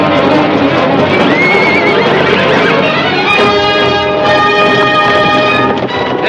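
Horses in a galloping herd whinny and neigh repeatedly, loud and close, over a dense, continuous rumble of hooves and movement.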